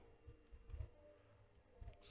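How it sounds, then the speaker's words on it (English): Typing on a computer keyboard, with soft irregular key clicks and taps in small clusters, faint and close against quiet room noise. "I can come on here and type"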